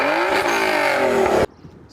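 Infiniti G37 with its VQ engine, one loud close rev that climbs in pitch and then cuts off sharply, leaving near silence.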